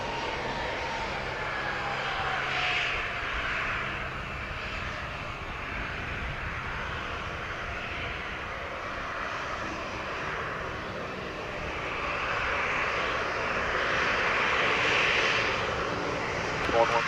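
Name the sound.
aircraft landing on runway 07 at Montego Bay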